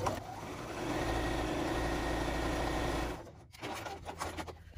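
A sewing machine stitches layered quilt-as-you-go fabric for an egg-shaped mug rug, running as a steady continuous mechanical hum for about three seconds, then stopping and giving way to quieter handling noises.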